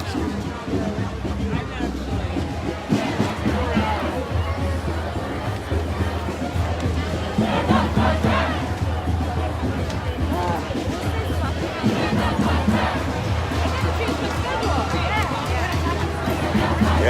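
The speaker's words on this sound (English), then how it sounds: "This crowd is enormous." Large street protest crowd in Portland, a dense, continuous roar of many voices with shouting and babble, steady and enveloping at close range throughout.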